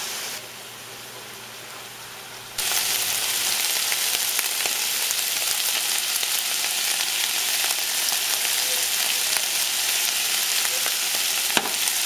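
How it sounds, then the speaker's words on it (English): Pork with onions and carrots sizzles and fries in a pan, a soft hiss that jumps to a loud, steady crackle partway through with occasional stirring clicks. "Right now, I'm just cooking the pork. Now I'm just gonna add the onions"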